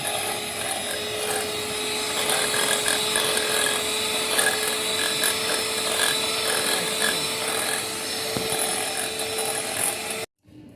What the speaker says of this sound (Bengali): এবার এই বিটারটা দিয়ে কেকটা আমি বিট করে নেবো